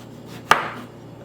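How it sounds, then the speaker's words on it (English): A single sharp knife chop through a lemon on a cutting board, a crisp close thud that quickly fades into quiet. "Now the lemon, I'm just gonna remove the top part and"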